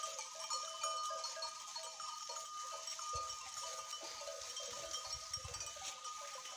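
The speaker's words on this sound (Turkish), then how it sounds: "Gördüğünüz gibi koyun otun içinde yayılıyor." A flock of sheep grazing in mountain grass, faint bleats and tinkling bells in the distance over a steady hiss of outdoor ambience, with a soft low rustle midway.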